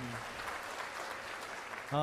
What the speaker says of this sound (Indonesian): Mari berikan tepuk tangan untuk Anda sekalian yang ada di sini.